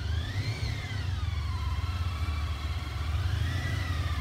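Police motorcycles of the Hays County Sheriff's Department rumble close by with a steady engine drone, while a thin, wavering whine rises and falls above the motor noise.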